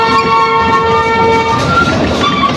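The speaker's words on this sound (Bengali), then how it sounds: "ট্রেন দিয়ে একটা পাক দিলাম" A toy train running along its track, a steady mechanical whir and rattle with a sustained horn-like tone, loud and close throughout with no talk.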